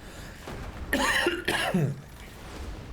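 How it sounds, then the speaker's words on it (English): A person coughing, two rough harsh bursts in quick succession, close and loud, with faint low noise in the background. "the cough killed me"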